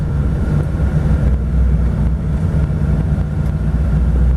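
A steel-bodied 1932 Ford two-door Tudor sedan resto rod cruises around a block, its engine a loud, steady low rumble from inside the car with road and wind noise blended in.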